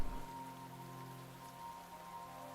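Rain falling in the opening of the video game Lost Judgment, a continuous patter of raindrops on surfaces with a faint tonal hum underneath and a small clatter at the very end.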